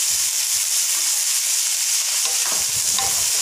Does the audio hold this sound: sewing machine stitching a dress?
no